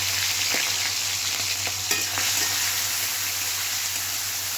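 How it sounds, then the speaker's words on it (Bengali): Prawns coated in salt and turmeric frying in hot oil tempered with nigella seeds, giving a loud, continuous close-up sizzle with a few light spatula taps. "এবার ওই কালো জিরে ফোড়নের তেলের মধ্যে এখানে নুন আর হলুদ দিয়ে মেখে রাখা চিংড়ি মাছগুলো আমি ভেজে নেবো"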